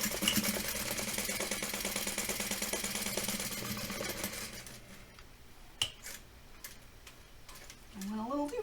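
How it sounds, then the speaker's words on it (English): A sewing machine stitches the side seams of a tote bag at a half-inch seam allowance, a steady rapid ticking drone for the first half that then stops, followed by quieter handling sounds and a faint voice. "we're going to stitch along the sides across the top and back down the other side at a 1/2 inch seam allowance"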